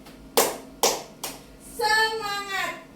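A group of people at a school gathering claps three sharp, evenly spaced claps in unison, then shouts together in a loud, drawn-out response.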